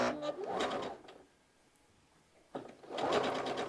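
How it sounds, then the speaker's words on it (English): A sewing machine stitches down a side seam pocket on a garment in two short bursts of close running, separated by a quiet pause of about a second and a half. "And I'm just gonna sew this down."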